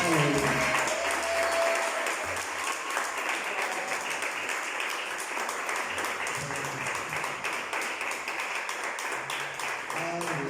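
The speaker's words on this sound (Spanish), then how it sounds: "Un fuerte aplauso a Cristo en esta noche." A church congregation bursts into sustained applause at an evening worship concert, dense and steady for the full stretch, with music and some voices underneath.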